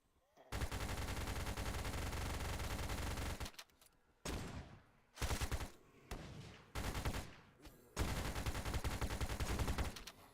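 Two guns fire in a VRChat video game, starting with a long unbroken stream of rapid automatic shots, then breaking into several shorter loud bursts separated by brief gaps.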